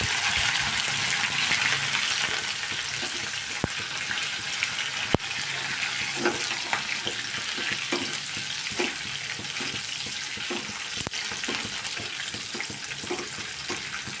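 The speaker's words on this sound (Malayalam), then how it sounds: "ഉള്ളി നല്ലോണം മൂത്ത് വരണം" Onions and curry leaves frying hard in a pan, with a dense continuous crackle and sizzle broken by repeated sharp clicks and scrapes of stirring, loud and close throughout.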